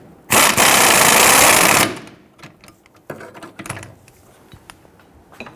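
A control arm bolt on a 2006-2012 Toyota RAV4 being snugged down with an impact gun: one loud, steady buzzing burst of about a second and a half, then quieter clicks and clanks of tools.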